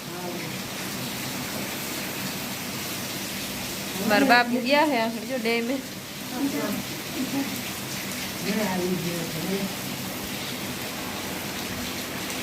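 Heavy rain pours at a dam in a dense, steady hiss close around, while someone talks over it.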